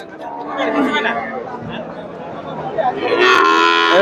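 A Jersey cow lows at a busy Bangladeshi cattle market, one long moo rising over steady crowd chatter and nearby voices, with the call swelling louder toward the end.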